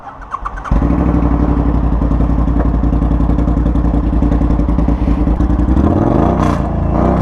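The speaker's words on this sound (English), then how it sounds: "Very first time riding this bike for me." Custom Triumph Bobber motorcycle starting up, then its engine rumbling loud and close with a steady, throbbing idle that builds into revs near the end.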